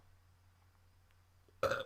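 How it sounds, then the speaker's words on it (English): A single short, loud burp from a man erupts near the end after a quiet stretch with a low background hum. "Oh, mate, I've got the burps."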